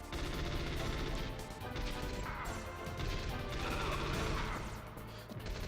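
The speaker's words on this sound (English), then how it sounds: "My god, explosion, so much white!" A stun grenade goes off in the video game Metal Gear Solid, giving a loud, sustained crash and roar of blast noise that fills the whole stretch.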